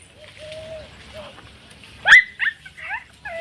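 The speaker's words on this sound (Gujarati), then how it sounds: "આ છે નાના કૂતરાના બચ્ચા એટલે ગલુડા" Puppies in a garden whimper with thin, high drawn-out whines, then break into a few short yips and barks close by over quiet background noise.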